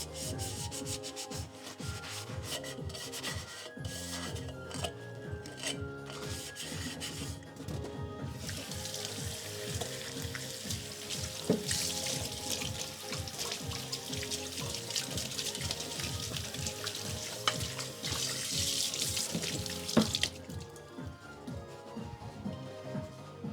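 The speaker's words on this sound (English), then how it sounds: "Next up, sound of washing" A cake tin is scrubbed and rubbed in a sink with running water, steady close scraping and sloshing that grows brighter midway and continues alone without speech.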